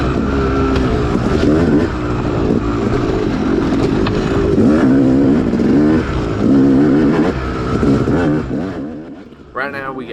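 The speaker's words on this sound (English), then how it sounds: "you'll sometimes be able to hear that four-stroke of Travis" Four-stroke dirt bike engines rev and race nearby, loud and continuous with rising and falling pitch as riders accelerate, a voice talking over the engine noise.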